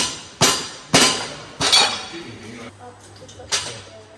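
Metal parts clinking and tapping while a nut is fitted to a motorbike rack on a Tesla Model Y: four or five sharp close metallic knocks spaced through the clip, with a faint low hum underneath and no talk.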